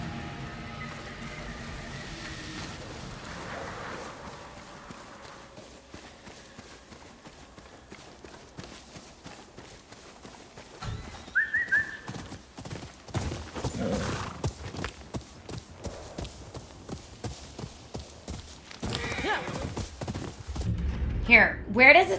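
Horse hooves clop in the video game Ghost of Yotei, starting faintly and then speeding into a steady galloping rhythm that grows louder toward the end.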